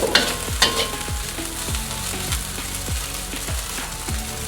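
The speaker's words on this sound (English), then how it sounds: "So make sure to stir it around often." Shrimp fried rice with golden egg stirred in a pan over high heat: a steady frying sizzle with repeated scraping strokes of the spatula at a regular rhythm, close and clear, with no talking.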